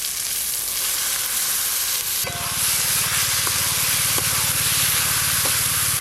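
Soaked Gobindobhog rice hits a pan of well-fried masala with tomatoes, setting off a sudden loud, steady sizzle partway through, with a few light clinks of stirring over the continuous frying hiss.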